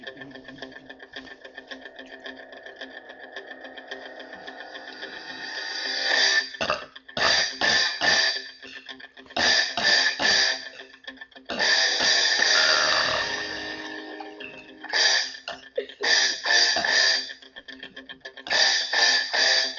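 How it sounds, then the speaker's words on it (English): A man's super loud burps performed to the tune of a song, starting as a long droning belch and then breaking into a series of rhythmic burst bursts with short gaps between them. "My friend right here can do super loud burps."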